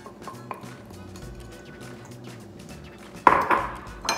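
Chopped onion tipped into a bowl of avocados for guacamole lands near the end as a close, clattering rattle against the bowl after a few quiet seconds of faint kitchen noise, with no speech over it.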